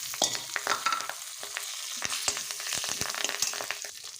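Curry leaves, dried red chilies and seasoning seeds crackle and sizzle in hot oil for a Telugu horse gram chutney, with sharp popping bursts and a few stirring scrapes throughout, close and steady, no voices.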